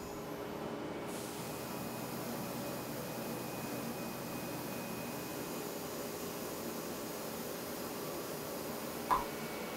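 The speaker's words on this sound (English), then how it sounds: "walking around putting that chamfer on the part" CNC mill cutting a chamfer on a Richlite part, a faint steady broadband machine hiss with a soft cutting tone throughout and one brief click near the end.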